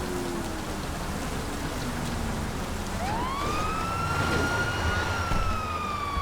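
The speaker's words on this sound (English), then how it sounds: "Turn off the siren." A police-style emergency siren from a vehicle in the video game GTA 5 wails up and sustains over steady rain-like noise, loud and continuous with no talking.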